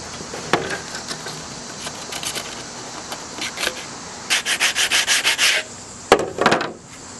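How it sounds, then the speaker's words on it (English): Sandpaper rubs by hand over a car interior part outdoors in short scratchy strokes, with a quick run of rhythmic passes midway and a few sharper scrapes near the end, close and fairly quiet. "let's go ahead and get started on the sanding"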